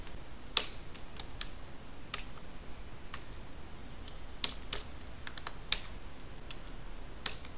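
PHP code being typed on a computer keyboard: sparse, close key clicks and taps in irregular bursts with short pauses between them, heard alone and fairly quiet.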